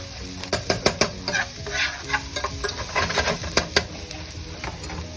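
Shallots sizzling in a pan with sweated garlic, a loud close frying hiss broken by rapid spoon scrapes and taps against the pan.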